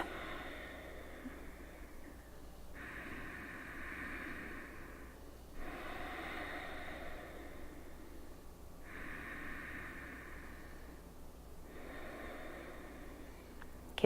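Slow, deep breathing during a yoga session, alternating long inhales and exhales in an even, unhurried rhythm, close, soft and alone in a quiet room.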